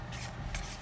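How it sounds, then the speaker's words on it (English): Two quick riffling swishes of a tarot deck being shuffled by hand, close and soft against a quiet room. "I'm just going to shuffle it a bit more"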